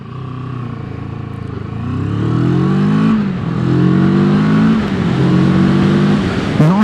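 A Moto Morini Seiemmezzo 650 Scrambler motorcycle pulls away and accelerates up through smooth gear changes, its engine note rising in repeated sweeps, loud and close, with no talk.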